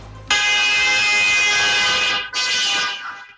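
A silver sedan's horn blares in a loud, sustained honk outside a house during a neighborhood dispute, breaking briefly before a second shorter blast that fades out.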